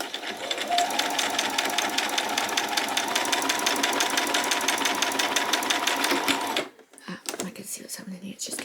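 A sewing machine stitches an apron in a steady, fast mechanical whir with rapid needle ticks running for several seconds, then stops abruptly, followed by fabric handling and small clicks.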